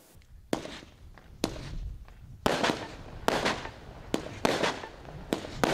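Magnificent 7, a 2024 Quantum Fireworks compound, fires in a rapid string of sharp launch thumps and crackling bursts at irregular intervals, with loud reports over a steady hiss of crackle.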